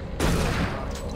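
A shotgun fires in the Xbox 360 game Doom 3, one loud, booming blast with a short, rumbling tail that decays quickly.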